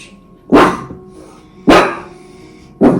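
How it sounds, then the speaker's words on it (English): A dog barks three times at a slow, even pace, each bark loud, sharp and close, with quiet gaps between them. "He's literally barking at my kids who are right outside the front door with their friend."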